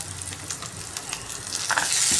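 Onion pieces sizzle in hot oil with browned fenugreek seeds in a pan, a soft crackling fry with scattered pops that swells louder toward the end.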